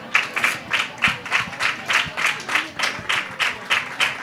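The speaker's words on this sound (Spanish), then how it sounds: "Un aplauso para ella." Rhythmic clapping in unison, about three claps per second, keeps a steady beat for a woman named María at a Feria program, moderately close and clear.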